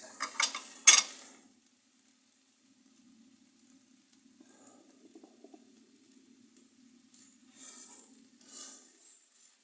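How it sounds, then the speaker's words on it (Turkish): Minced meat fries with spices in a pan, giving a faint, sparse sizzle and a few stirring scrapes. A sharp clatter of the utensil against the pan stands out early, then quieter crackles follow. "Şimdi baharatları da katıp hep birlikte kavuracağım arkadaşlar."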